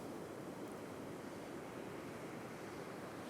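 Sea waves breaking on a beach in Scotland, a constant loud roar of surf with wind noise on the microphone, unbroken for the whole stretch with no voices.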